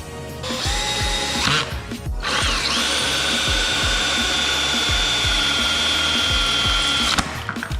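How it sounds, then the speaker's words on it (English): A power drill drills into Toyota GR86 car trim for a fourth brake light, running almost continuously at close range, its whine steady with brief pauses and ratcheting mechanical clatter underneath. "get the drill bit and just get it in place for where we're gonna drill in."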